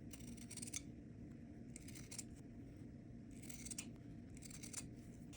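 Scissors snip through excess material while trimming reusable gift wrap, in several close, crisp bursts of cutting separated by short pauses, with no talking.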